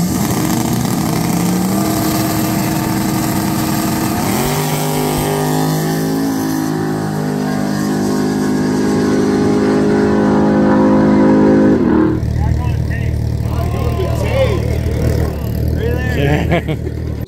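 Street cars in a small-tire no-prep drag race final roar loudly, with engines revving and accelerating hard down the track, the pitch climbing through gears before a distant, rougher engine sound takes over.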